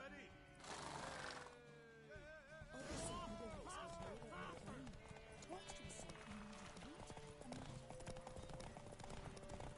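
Horse hooves clip-clop rapidly in the video game The Witcher 3: Wild Hunt during a horse race, a fast steady clatter under music, whinnies and a voice speaking.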